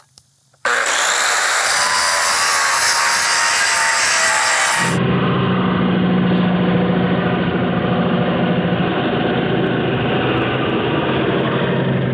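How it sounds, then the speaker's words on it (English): A grinder steadily removes scale from a Damascus knife blade forged from chainsaw chain, producing a loud continuous abrasive whine that shifts to a lower, harsher tone partway through and then runs unbroken. "I'm gonna grind all the scale off the blade, pop it on the surface grinder, and grind this thing down to the thickness that I want."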